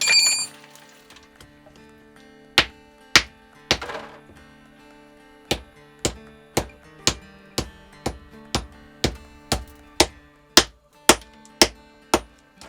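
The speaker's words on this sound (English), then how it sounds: "chipping away at a vein of tin, which is black in color" Hand tool chipping away at a black tin vein in a mine, a steady series of about twenty sharp metallic strikes on rock at roughly half-second intervals, close and echoing slightly, with no talk.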